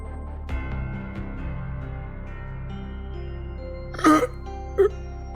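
A single short cough from a character in the Fate/Stay Night visual novel comes up close over a soft sustained music bed, followed moments later by a brief second breathy sound.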